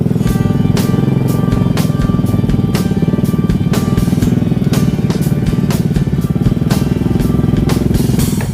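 A motorcycle engine runs loud and close beside a village parking spot, its dense, steady rumble continuing without a break and with no voices.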